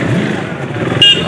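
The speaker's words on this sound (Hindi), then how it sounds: "साउंड क्या मार रहा है, देखा भाई सुपर बाइक" A 1000cc Hayabusa superbike rumbles low and close under someone talking excitedly, with a brief higher tone near the end during a Republic Day ride.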